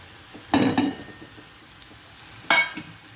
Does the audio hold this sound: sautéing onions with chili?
yes